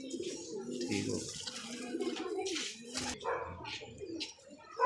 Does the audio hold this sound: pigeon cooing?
yes